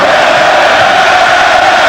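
A basketball arena crowd from a 1994 NBA playoff game loudly roars and jeers at a player after his technical foul, a dense, sustained wall of voices filling the whole moment.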